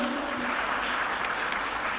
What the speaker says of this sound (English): Please have a round of applause for Dr.